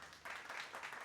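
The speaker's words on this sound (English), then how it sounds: "Let's give a round of applause for that." Brief burst of clapping, faint and close, lasting about a second.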